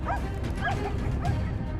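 Hunting dogs on a wild boar hunt give high, excited yips and whimpering whines in quick, uneven bursts, fairly close over constant outdoor rumble.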